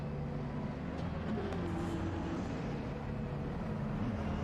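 Race car engine in the racing sim Assetto Corsa Competizione, a steady low droning roar held close and loud for the whole stretch, with a slight rising whine partway through.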